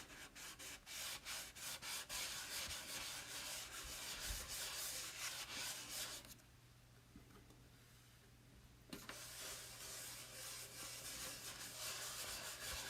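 Surface wax rubbed onto a chalk-painted furniture surface by hand, a steady close scrubbing swish running throughout with a brief quieter pause midway, no talking.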